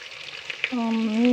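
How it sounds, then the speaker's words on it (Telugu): Onions sizzle steadily in a hot pan, frying for a chicken curry. A low voiced tone, like someone humming or starting to speak, joins about halfway through and continues over the frying. "ఇప్పుడు ఉల్లిపాయలు వేగిపోయినాయి కదా"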